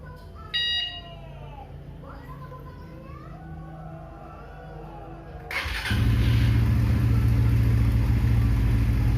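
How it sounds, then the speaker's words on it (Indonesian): A Suzuki GSX Bandit motorcycle engine starts midway through after a quiet stretch with a brief electronic beep, then settles into a loud, steady, close idle. "Bandit nyalakan mesin."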